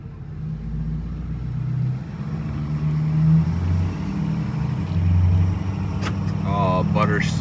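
A steel-body Ford truck with a 6.7 Powerstroke diesel driving, a steady low engine drone and road rumble from inside the cab, with faint voice-like sounds near the end.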